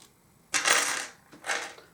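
Small divination charms clatter onto a table in two quick tumbling drops, bright metallic jingling close by with a short pause between them.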